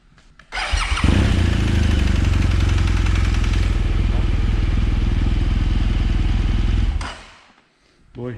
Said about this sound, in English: Boy, you sure could hear those valves clattering around, huh?